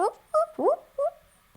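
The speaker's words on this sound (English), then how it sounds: "He's making those like barking noises as he sleeps." A sleeping dog lets out several soft, muffled yips and whimpering barks, short and irregular, close by in an otherwise quiet room.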